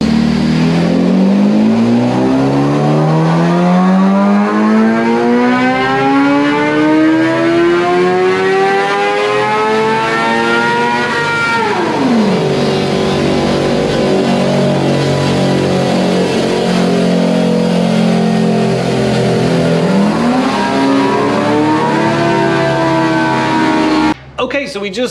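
A Suzuki GSXR 750 with a Taylormade exhaust, run on a dyno, gives a loud, close engine pull that rises in pitch up through the gears. Each shift brings a brief drop before the climb resumes, and the pull ends abruptly.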